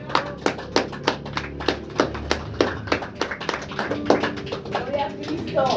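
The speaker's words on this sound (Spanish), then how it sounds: "Dale un aplauso al Señor." Rhythmic unison clapping from a church congregation, a steady series of sharp, evenly spaced claps continuing throughout, with voices and a sustained musical tone underneath.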